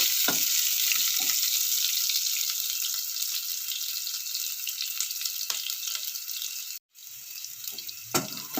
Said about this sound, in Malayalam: ഇത് നന്നായിട്ടൊന്ന് മൂത്ത് ഒരു ബ്രൗണിഷ് കളറായിട്ട് വന്നോട്ടെ കേട്ടോ നന്നായിട്ടൊന്ന് ഇളക്കി കൊടുക്കണേ